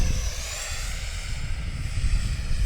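Radio-controlled F-15 Eagle model jet powered by twin 64mm electric ducted fans, making a steady, loud whooshing whine as it passes close by an airfield runway, with no talk over it.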